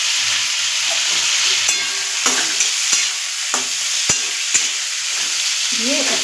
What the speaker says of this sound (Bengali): সবজিগুলো আমি ভেজে নেব।